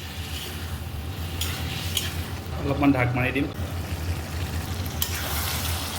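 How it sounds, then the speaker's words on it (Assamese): A mustard-spiced fish curry base fries and gets stirred in a pan, a steady low sizzle with a busier burst of stirring midway, while a voice talks briefly over it. "এতিয়া আকৌ 5 মিনিটমান ধুনীয়াকৈ ভাজি ল'ম"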